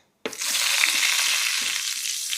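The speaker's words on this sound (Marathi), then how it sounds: "याच्यामध्ये आपण टाकत आहोत हिंग यानंतर ही धना पावडर सोबतच लाल चटणी हे आता आपण हलवून घेऊयात" Cumin, asafoetida, coriander powder and red chili powder sizzle loudly in hot oil in a pan as they are stirred, a steady close frying hiss that starts abruptly and holds throughout.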